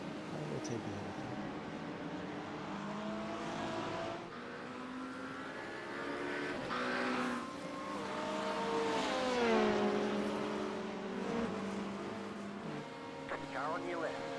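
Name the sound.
race cars in iRacing video game at Daytona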